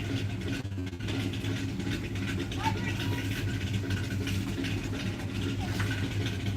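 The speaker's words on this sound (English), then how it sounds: "Here's your old truck, Triple D." An old truck engine rumbles steadily at middle distance on a residential street, a continuous low drone with a faint mechanical clatter, while a voice talks over it.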